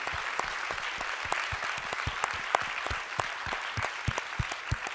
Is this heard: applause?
yes